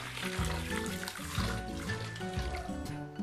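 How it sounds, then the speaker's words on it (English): Hot water pouring into a cooking pot holding a braised pork knuckle with dried spices and five-spice powder, a steady close splashing stream running throughout with no talk. "Now we can actually add in the hot water."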